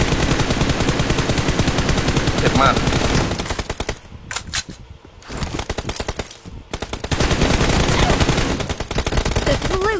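Sustained automatic gunfire in the mobile shooter PUBG Mobile during a team deathmatch, loud rapid bursts that thin out briefly midway before resuming, with a voice speaking over part of it.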